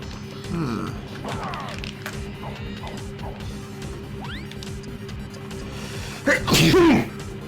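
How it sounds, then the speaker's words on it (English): One loud, close sneeze erupts near the end, after a stretch of quieter chirpy game sound effects from Paper Mario: The Thousand-Year Door being played on a stream. "Feel like I got a frickin' sneeze again."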